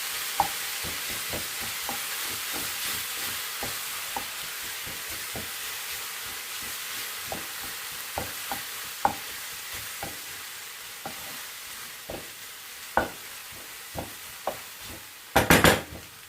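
A spoon stirs chopped parsley through a cooking filling for Turkish pide in a pan, soft steady sizzle under regular light taps and scrapes against the pan, ending in a short burst of louder clattering.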